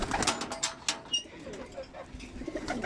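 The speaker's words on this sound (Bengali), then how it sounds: "এগুলো হলো আমার মাদি মাদি কবুতরগুলো" Female pigeons in a loft, soft repeated cooing calls close by, overlapping in an irregular rhythm with faint rustling and chirps in the background.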